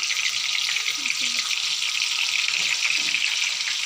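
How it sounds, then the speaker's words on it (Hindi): Tomatoes half-frying in a pan of hot oil left from cooking chapli kabab give off a steady, close, bright sizzle that runs unbroken the whole time, with a few faint clinks underneath. "और ये टमाटर को हाफ फ्राई करेंगे।"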